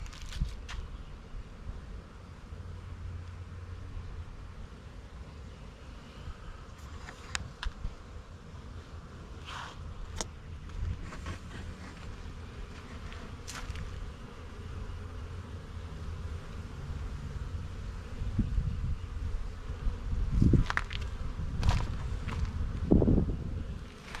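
Honeybees fly straight in to land at a hive in an outdoor apiary, a faint, steady low buzzing under light wind, with a few closer passes rising briefly in loudness toward the end.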